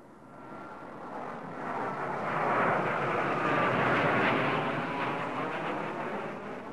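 A jet aircraft makes a high-speed pass along a runway, heard as a broad, steady engine roar that swells to a peak in the middle and stays loud, with no speech.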